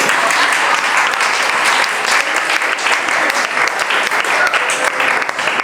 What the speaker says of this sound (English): please clap your hands for me.